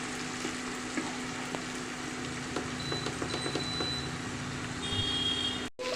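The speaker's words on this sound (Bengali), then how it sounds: "রসুনটাকে অল্প একটু ভালো করে ভেজে দেবো" Garlic frying in a pan with tomato, a steady close crackling sizzle with light scraping and stirring clicks scattered through, cut by a short dropout near the end.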